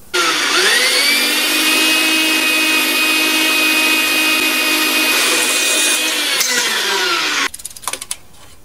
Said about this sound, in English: now we're going to cut the top piece that these two are going to bolt together